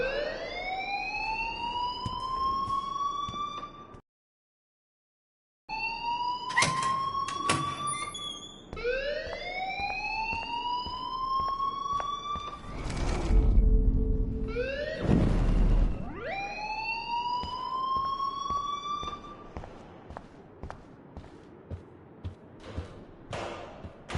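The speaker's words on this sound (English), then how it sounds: "please turn off that alarm since that's your job" A fire alarm in the video game Life is Strange blares as loud, repeating rising whoops, briefly cutting out once, with a jumble of heavier noise partway through.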